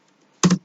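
Typing on a computer keyboard: two quick, close clacks of keys in a short burst, loud against near silence, with no voices.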